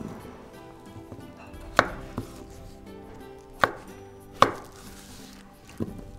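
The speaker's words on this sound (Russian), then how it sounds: "Картофель. Нарезаем достаточно крупно" A knife chops potatoes into large pieces on a cutting board, four or five sharp, separate thuds spaced a second or two apart, close and clear, with no talk.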